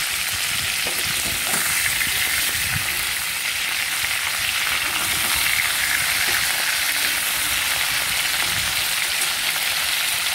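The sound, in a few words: fish frying in oil, turned over in the pan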